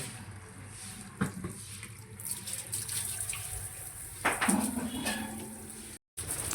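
Water sprayed while washing a bicycle outdoors, a faint steady hiss of running water with a couple of brief splashing bursts and light clatter, no talk.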